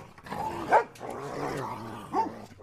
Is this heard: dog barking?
yes